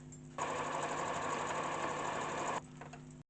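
A sewing machine stitching a V shape into fabric for a handmade stole, one steady close whirring run of about two seconds between quieter motor hum.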